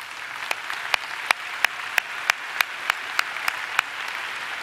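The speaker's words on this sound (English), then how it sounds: "let's please give them a round of applause" A graduation ceremony crowd applauds the faculty in a steady, sustained wash of clapping, with one nearby pair of hands beating a crisp, regular rhythm above the rest.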